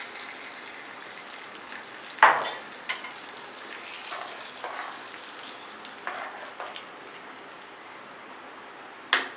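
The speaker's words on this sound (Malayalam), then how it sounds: "ഇനി നമുക്കിത് സാമ്പാറിലേക്ക് ചേർത്ത് കൊടുക്കാം താളിപ്പിനി സാമ്പാറിലേക്ക് ചേർത്ത് കൊടുക്കാം" Hot tempering poured into Kerala-style sambar, giving a soft steady sizzle with a few louder splashes and clinks of stirring, close and moderately quiet, without talking.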